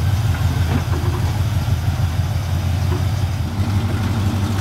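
A monster truck engine idles with its exhaust running, a steady low rumbling drone with no revving, moderately loud and without voices.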